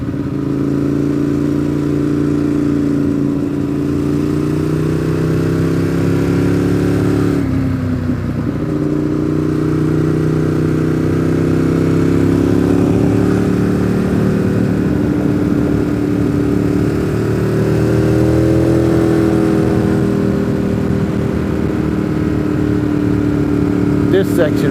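Motorcycles and other traffic pass along a newly repaved mountain road toward Fontana Village, with a steady mid-range engine drone that swells and fades as they go by. Voices talk over the engines throughout.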